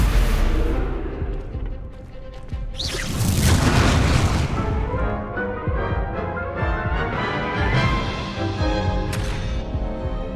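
Spell blasts from the Hogwarts Legacy video game, including fire and explosion spells, heavy booming bursts and crackling rumble filling the clip loudly, with a sharp crash midway and no talking.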